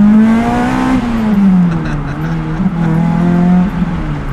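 A seventh-generation Toyota Celica engine revs hard toward redline, loud and close, its tone climbing and dipping through gear changes and sustained at high revs.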